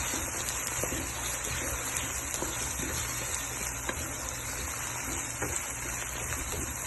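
About one and a half glasses of water are poured into a home-kitchen pot of golden-brown fried onions and garlic in ghee, giving a steady rushing, sizzling hiss that continues without pause.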